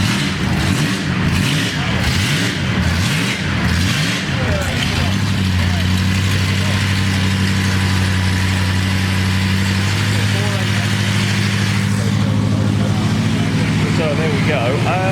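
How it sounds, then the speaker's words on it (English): An old Alfa Romeo car engine idles and revs with a deep, throaty rumble, steady and close, under a busy outdoor backdrop at the Goodwood Festival of Speed with faint voices. "An old Alfa Romeo making all the noise over here."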